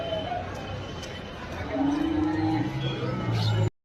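An ox lows with a sustained moo at a busy cattle market, the call rising clearly over background chatter and crowd noise before cutting off abruptly.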